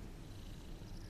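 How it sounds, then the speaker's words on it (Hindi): A cat purrs in a steady, soft, continuous rumble, close and faint, with no talking over it. "क्यूट बिल्ली है।"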